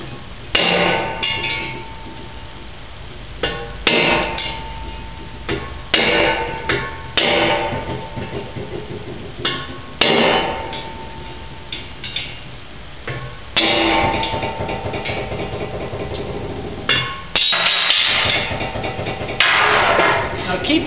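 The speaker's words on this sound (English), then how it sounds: "I'll start is with just a hammer and a flat tip screwdriver, and I'll pop these out" Hammer striking a flat tip screwdriver to knock pinion bearing races out of an Opel 1.9 differential: repeated sharp metallic knocks in irregular bursts, close and loud, with faint ringing between strikes.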